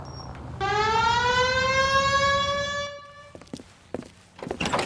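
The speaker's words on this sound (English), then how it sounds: "Hit the siren." A police car siren in the video game L.A. Noire winds up and holds a loud, steady wail for about two seconds, then cuts off, followed by scattered clicks and footsteps.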